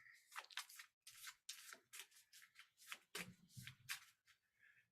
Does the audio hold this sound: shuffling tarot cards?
yes